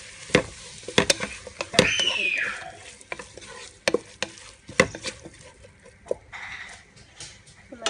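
Onions fry in a pan while a utensil stirs them, scraping and clacking in irregular bursts over a steady close sizzle.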